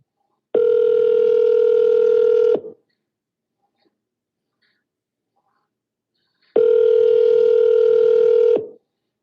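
Telephone call ringing out: two long, loud, steady ring tones about four seconds apart, each lasting roughly two seconds, separated by silence, with no one answering.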